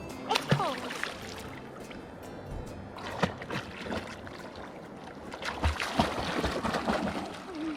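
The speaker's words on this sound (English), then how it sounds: "Definitely is a beautiful river." Water gurgles and trickles around a raft drifting down the Delaware River. The splashing stays close and fairly soft, with occasional louder sloshes and paddle knocks, and voices talk intermittently throughout.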